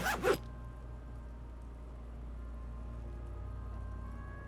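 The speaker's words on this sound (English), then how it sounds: "Lieutenant pulls down the zipper" A jacket zipper is pulled down in the video game Disco Elysium, a short quick zip right at the start, then a quiet low ambient hum with faint tonal lines.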